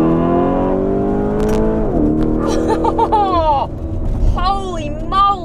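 A 2021 Mansory-tuned Lamborghini Urus SUV accelerating hard, its engine note climbing loudly through a gear, dipping at a shift and rising again, heard from inside the car.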